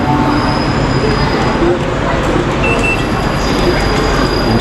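Rumbling monorail train rolling into a platform close by in Kuala Lumpur, with rail noise, faint wheel squeals and clicks over a steady low roar.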